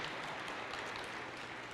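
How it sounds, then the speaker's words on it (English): A round of applause from the audience at a fall convocation and campus blessing, an even, quiet wash of clapping that holds steady throughout with no voices on top. "let's give her a round of applause"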